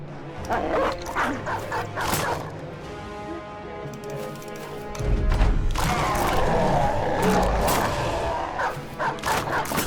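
Dogs bark and yip repeatedly in a video game, with a whimper among the calls, over steady game music and effects; the barking grows louder and busier in the second half.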